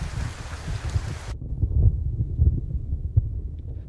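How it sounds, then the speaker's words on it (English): A storm in Kerbal Space Program at the Kerbal Space Center gives steady heavy rain with deep rumbling thunder rolling beneath it, loud and continuous, with no talking. "Very loud storm indeed."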